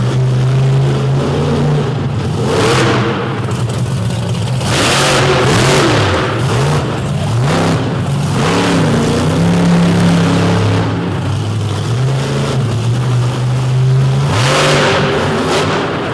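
A monster truck's loud, large engine revs repeatedly at a freestyle competition, rising and falling in surges over a steady rumble, close and unbroken throughout.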